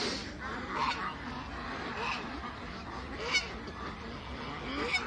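Geese honk repeatedly at a moderate distance on a poultry farm, several overlapping calls scattered through the clip over a soft background hum.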